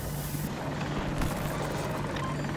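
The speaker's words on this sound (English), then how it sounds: "There's a helicopter right here." An attack helicopter in the video game Battlefield 2042 on the Hourglass desert map gives a dense, steady rotor and engine roar that fills the whole stretch, with a constant low hum and no speech.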